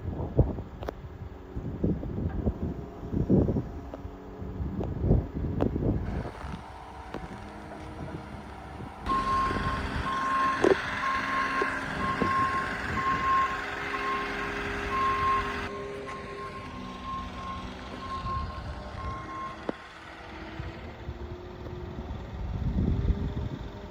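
Reversing beeps from a forklift on a farm, a steady tone repeating for several seconds mid-clip, heard outdoors over engine rumble, wind and clattering.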